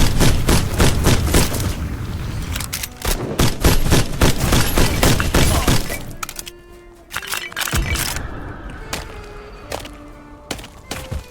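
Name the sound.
gunshots in the video game Black Skylands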